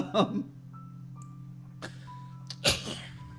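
A single quick sneeze bursts out near the start, followed by a couple of short sharp vocal sounds over a low steady hum.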